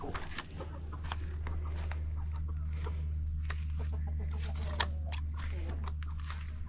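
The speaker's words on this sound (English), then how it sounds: "I thought I heard a hen" Hen clucking inside a backyard chicken coop, a scatter of short clucks and scratchy rustles close by over a loud constant low hum, with a faint voice at times.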